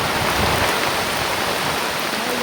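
Steady heavy rain pours down in a village, a dense continuous hiss with no voices.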